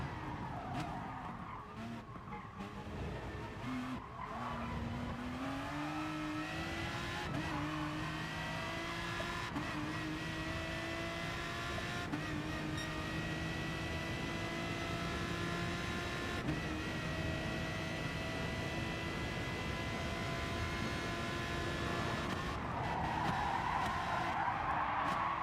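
Race car lapping in GT Sport: a steady, close engine drone with rising and falling revs through gear changes and repeated tire skids and squeals, running continuously throughout.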